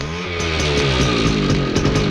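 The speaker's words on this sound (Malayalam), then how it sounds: "ബൈക്ക്." A motorbike engine revs loud and near, holding a rough buzzing drone with rhythmic pulses and no speech over it.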